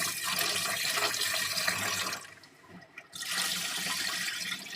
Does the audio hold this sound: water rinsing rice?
yes